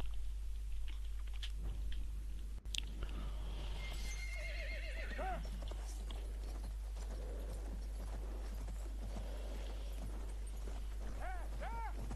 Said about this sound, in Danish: der kommer en hest